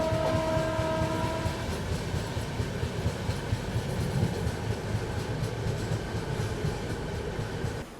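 A Shatabdi Express passenger train arriving at Bardhaman Junction station, with steady close rumble and rattle of railcars, clickety-clack and a brief sustained horn tone at the start, continuous and loud throughout.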